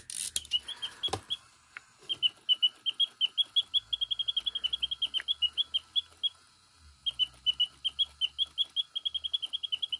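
A battery-free wind-up mechanical singing bird toy in a cage chirps in rapid, evenly spaced tweets, pausing briefly once, accompanied by faint clicking from its mechanism nearby.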